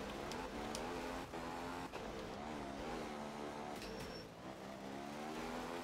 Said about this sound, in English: Something with a horrible sounding engine.